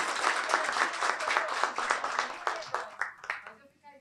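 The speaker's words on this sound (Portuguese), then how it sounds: "uma salva de palmas" A seated audience at a medical scientific forum claps in a dense burst that thins into a few scattered, separate claps before fading out near the end.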